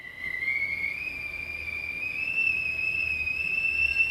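Tea kettle whistling steadily, a thin high continuous tone slowly rising in pitch over low background hum, moderately loud and alone.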